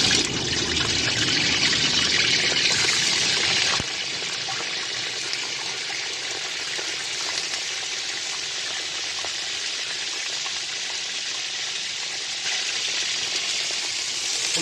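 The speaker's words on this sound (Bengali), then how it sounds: "এখানে তেলটা গরম হয়ে এসছে, তো আমি তেলের মধ্যে ফুলকপিগুলো একে একে ছেড়ে দেবো" Cauliflower florets fry in hot oil with a dense, continuous sizzle that drops in level after a few seconds, then steadies and swells again near the end, with no voices.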